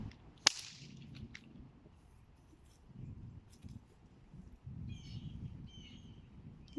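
A snake whip cracks once in an overhead swing, one sharp, loud snap near the start, then faint outdoor rustling with a few distant bird chirps.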